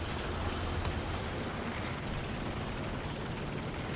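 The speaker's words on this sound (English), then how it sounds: "Let's get some artillery on A, we know there's still one there." Artillery shells strike in War Thunder, with a Crusader tank battle in the background. The deep, rolling explosions blend into a dense, continuous rumble that sounds distant and muffled, with no talk.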